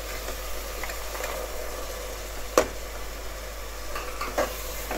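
Paneer and peas being stirred and fried in masala in a pan, a steady low sizzle with a couple of brief scraping clinks from the spoon, no talking.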